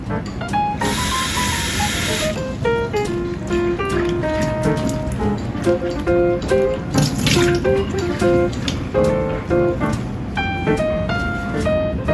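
Water runs from a tap while red dates are rinsed, splashing and trickling under a light background melody.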